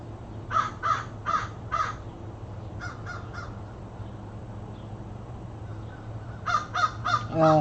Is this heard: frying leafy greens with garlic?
no